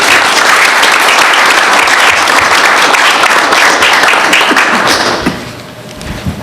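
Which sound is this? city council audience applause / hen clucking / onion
city council audience applause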